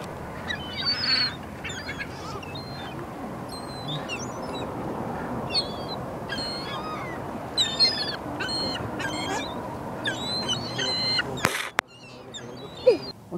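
Geese or ducks give odd, strained honking calls in short repeated bursts over steady outdoor background noise, fairly near, with a few sharper squawks toward the end.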